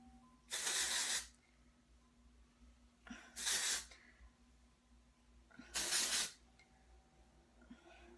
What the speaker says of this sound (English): I like to spray that on my roots just to give it a little bit more body.